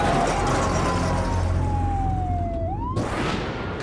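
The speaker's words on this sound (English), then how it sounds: "using the flashing lights and siren to great effect" A police car siren wails with a falling then rising tone, loud and continuous over engine and road noise, ending in a sudden surge of broadband noise.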